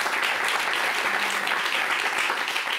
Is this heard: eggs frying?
no